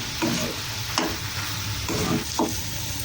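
Milk, semolina, dry fruit and cardamom being mixed in a pan for modak filling, heard as a loud, close, steady sizzling hiss broken by about four scraping stirs of the spoon.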